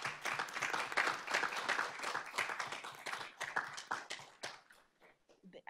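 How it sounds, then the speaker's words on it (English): Applause from a meeting audience honoring school staff at a board of trustees session, a dense burst of many hands clapping that holds steady, then thins and fades to scattered claps at the end. "give them a round of applause for all of the hard work that they did"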